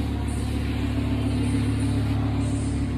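A 2017 Audi R8 Spyder with a V10 engine idles smoothly and steadily, a low, even hum held close and unchanging for the whole few seconds.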